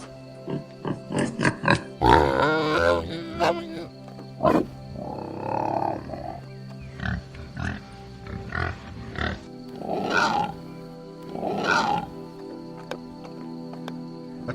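A tiger roars and grunts in a series of deep, rough bursts, loud and close, spaced irregularly with pauses between them and no talking.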